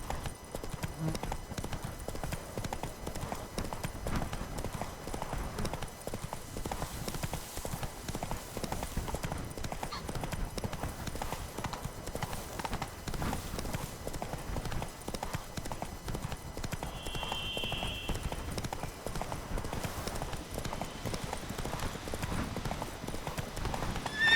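Horse hooves beat in a steady, continuous rhythm while galloping through a landscape in The Witcher 3 video game, moderately loud and alone across the whole stretch.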